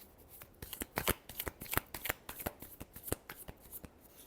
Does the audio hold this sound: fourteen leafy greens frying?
no